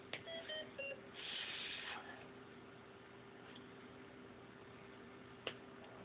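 A few short electronic alarm beeps from an Ohmeda anesthesia machine at the start, then a low steady machine hum with one faint click near the end.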